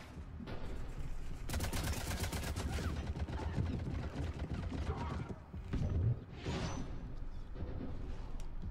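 Gunfire in the video game Mass Effect 3, quiet rapid volleys of shots and automatic fire over a busy game soundscape, with a sharp burst and whooshes partway through.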